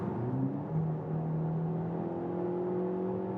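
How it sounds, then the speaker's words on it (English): A Peugeot 408 facelift hybrid accelerates hard from 80 to 110 in sport mode with the engine running, giving a steady, rising engine drone heard from inside the car. "Now in the sport mode, engine is then directly on."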